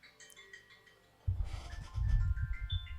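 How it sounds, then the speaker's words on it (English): Deep Blue Massive X synth pad with a stringy top end, starting soft and thin, then swelling abruptly into a fuller, louder sustained tone with a rumbling low layer, no voices present. "Yeah, I like that it has the top end stringy type sound,"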